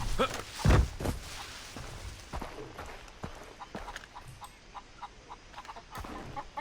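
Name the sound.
chickens clucking in video game Far Cry 3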